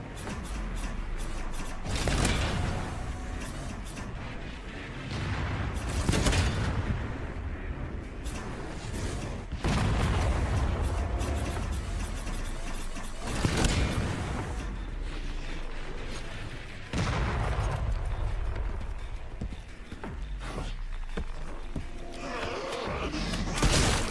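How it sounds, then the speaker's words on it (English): Mortar fire against zombies in the horror video game Resident Evil Requiem, heard as repeated heavy booming impacts and blasts every few seconds over a dense, continuous din of combat noise. "just wipe out as many enemies as you can with the mortar"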